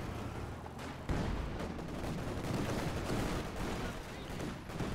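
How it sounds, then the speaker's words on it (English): ZiS anti-tank gun fire striking a Panzer II tank in the WWII strategy game Company of Heroes 2, a sharp boom at about one second amid continuous battle gunfire and rumbling artillery. "that was a nice hit from the Zis on the Panzer II"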